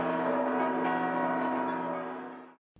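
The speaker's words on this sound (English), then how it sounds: "One of the main events of the square was the hourly bell ringing." A church bell in a Mexican town square rings its hourly peal, one sustained resonant strike with a long shimmering hum that fades out after a couple of seconds.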